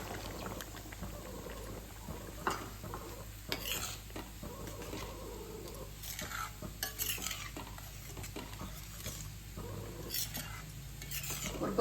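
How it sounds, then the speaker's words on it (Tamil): Tamarind water is poured into a pot of boiling mochai payiru kulambu, bringing a wet, bubbling stir and sizzle with occasional clinks of a utensil against the pan, steady and close throughout. "புளி கரைச்ச தண்ணியை விட்டுறேன்."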